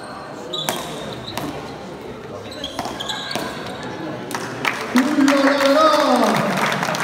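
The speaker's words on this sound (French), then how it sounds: "Ça va vite, vous avez raison d'applaudir, c'est magnifique" Spectators at a French under-22 frontball championship applaud after a point, a few sharp ball impacts ringing out before a burst of crowd clapping rises, with voices mixed in.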